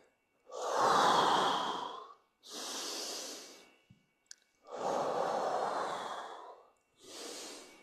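Slow, deep breaths during a shoulder pressing exercise: four long, audible exhales and inhales in an even rhythm, close and clear, with brief quiet gaps between them.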